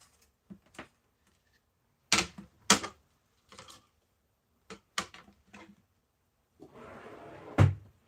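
Tape being tacked down and snipped with scissors: sharp separate snips and clacks spaced irregularly and close by, followed by a longer ripping, rustling pull of tape that ends in a firm snap.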